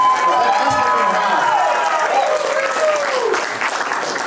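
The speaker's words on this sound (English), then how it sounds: "can we have a big round of applause for that?" Audience applause fills the room at an 80th birthday party, a steady, dense wash of clapping from a crowd that holds for the full stretch with a few voices mixed in.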